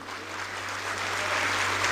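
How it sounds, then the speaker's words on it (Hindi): Faint, steady applause from a crowd at a Hindi comedy stage show, clapping for the space agency ISRO, heard over a low electrical hum for just under two seconds. "एक बार सारे लोग हमारी स्पेस एजेंसी इसरो के लिए जोरदार तालियां बजाइए।"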